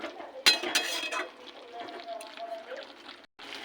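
A lid set onto a cooking pot of vegetable labra with a little water, landing as a sharp metallic clink followed by brief ringing and faint handling noise, with quiet speech.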